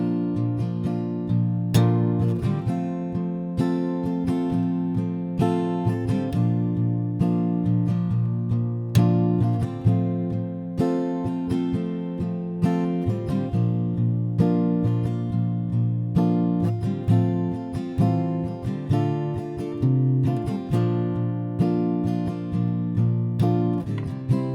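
An acoustic guitar strummed in a steady rhythm, playing the bridge of a song, chords changing every few beats, bright and close, playing alone without voices.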